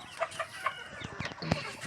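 Several backyard farm roosters give a few short, soft clucks spaced apart, fairly quiet against a low background murmur.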